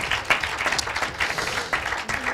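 Brief applause from a modest audience at a talk on sport and wellbeing, clapping for the speakers with irregular hand claps, close and moderate in level.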